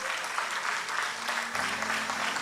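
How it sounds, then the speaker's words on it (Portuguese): Applause from a church congregation during a sermon, a steady wash of clapping that fills the clip, with a low musical tone entering partway through. "Salva de palmas para a nossa mídia maravilhosa."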